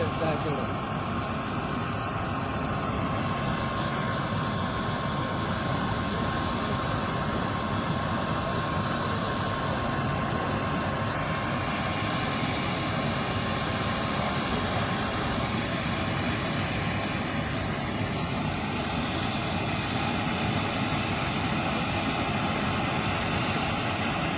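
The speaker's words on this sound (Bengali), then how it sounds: "দেখতে পাচ্ছেন বিমানটি আস্তে আস্তে স্টার্ট করতেছে।" A Biman Bangladesh Airlines airplane with its propellers turning begins its takeoff roll on an airport runway, giving a steady, loud engine drone with broadband rushing noise that holds for the whole stretch.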